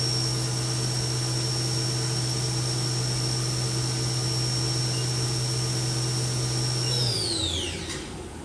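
A new 2003 HAAS VF-1D vertical machining center spindle runs steadily at 7,500 RPM, a loud, even high-pitched whine with a low hum, then winds down audibly in the final second or so.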